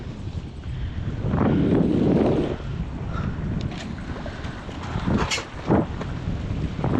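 Wind rushes over a sailboat at sea while it turns back into the wind, producing gusty microphone buffeting that swells and fades, with water and rigging noise underneath.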